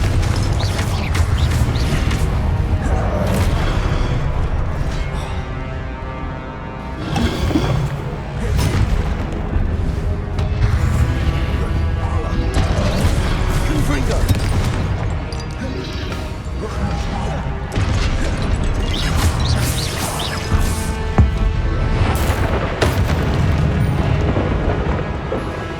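Confringo spells in Hogwarts Legacy set off repeated fiery blasts, crashing and booming through dense combat clamor, with impacts landing every few seconds over a continuous loud backdrop of spell effects and music.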